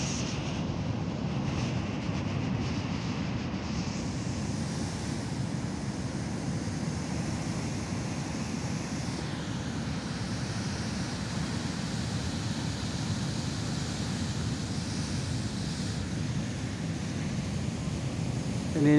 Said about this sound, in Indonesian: Ombaknya sangat besar sekali dulur